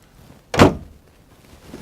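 The heavy cab door of a Liugong excavator is pulled open with a short metallic clunk and thud, then quiet.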